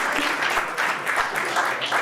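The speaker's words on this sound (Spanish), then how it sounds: "Démosle un fuerte aplauso." Audience applause greeting Carlos Lowe, an economist and historian, as he is introduced at an economics talk: dense, steady clapping from a crowd, filling the whole stretch without a break.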